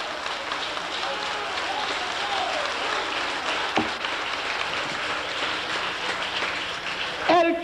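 A church congregation claps in a steady, dense patter of applause throughout, with voices faintly mixed in underneath.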